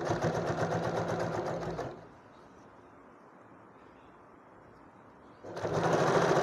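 A sewing machine stitches a lap-felled seam, running loud and steady for about two seconds, falling quiet, then starting up again at the close.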